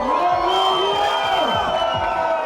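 A crowd shouts and cheers at a boxing event in Phuket, a dense, loud roar of voices with whoops rising and falling throughout.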